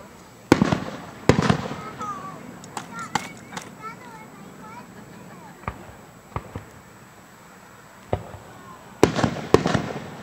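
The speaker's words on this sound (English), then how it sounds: "Do you like those fireworks, Juni-B?" Several sharp fireworks bangs burst out in Bedford, Virginia, a pair near the start and a cluster at the end, with sparse pops and faint voices between them.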